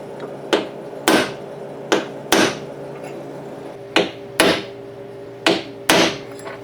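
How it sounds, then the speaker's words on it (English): Sharp metallic hammer blows striking a punch to mark holes for drilling on a CFMOTO UForce 1000 light bar mount, eight close, loud strikes often in quick pairs, with a faint steady hum behind. "We're going to punch out our holes so we can drill them."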